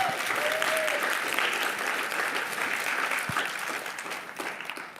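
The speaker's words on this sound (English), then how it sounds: "one more round of applause for them" Steady crowd applause, many hands clapping together at moderate loudness, tapering slightly toward the end.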